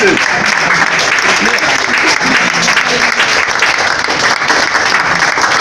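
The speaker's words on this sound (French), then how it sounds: "Il faut applaudir." Dense, loud applause from a live audience fills the whole stretch, an even roar of many hands clapping with no pause.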